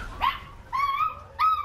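A dog in the room gives three sharp barks with short pauses between them, fairly close and loud, with no voices over them.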